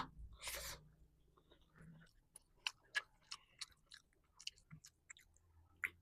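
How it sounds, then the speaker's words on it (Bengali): Cooked cauliflower curry from a village market being eaten up close, with soft crunchy chewing and scattered crisp bites in an irregular rhythm, no talking. "এই তো বন্ধুরা ফুলকপি তো খেয়ে দেখি কেরকম লাগে"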